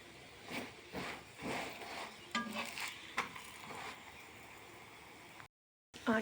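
Parathas frying in a home kitchen pan, a soft sizzle with scattered stirring and scraping clicks, fairly faint and without talk, ending briefly in silence.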